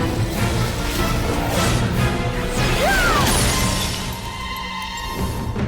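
A protective shield shatters in the video game Genshin Impact, a loud crashing burst with a sweeping whoosh that fades into a quieter tail.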